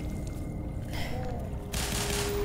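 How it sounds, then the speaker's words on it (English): Rapid automatic gunfire from a weapon in the video game Black Mesa, a dense burst of shots with a louder, brighter stretch near the end, heard alone with no talk. "Ooh, we have rapid fire."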